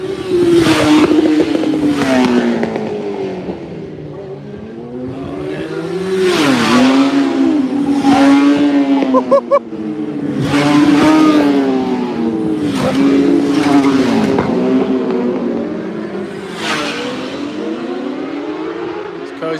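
A Ducati motorcycle with twin pipes underneath races past the spectator area at a Pre TT Classic road race, with loud engine roars rising and falling as several bikes sweep through the corners in repeated waves.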